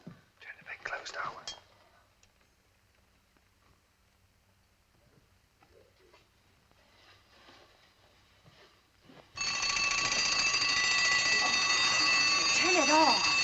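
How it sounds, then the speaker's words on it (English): An alarm clock set for a baby's night feeding goes off abruptly partway through, a loud, continuous metallic ringing that runs to the end after a stretch of quiet whispering. "I'll set the alarm."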